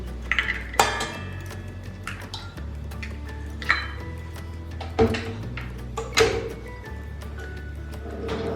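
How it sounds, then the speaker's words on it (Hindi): Two eggs cracked for cake batter, heard as a few sharp taps and cracks against a bowl, spaced several seconds apart, with small drips and clinks of kitchenware between them. "तैयार करने के लिए सबसे पहले हम 2 अंडों को ब्रेक कर लेते हैं।"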